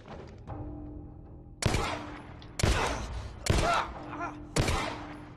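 Four sharp gunshots from a handgun in The Last of Us: Left Behind, a survival action game, fired in a slow, uneven rhythm about a second apart, each loud and near with a short ringing tail over a low ambient hum.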